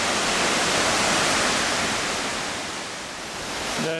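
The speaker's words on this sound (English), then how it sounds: "you probably hear the water now coming through what's called the hole in the wall" Water rushes through the Hole in the Wall at Gordale Scar, a limestone gorge, as a loud, steady, close roar of falling and flowing water that swells slightly again at the end.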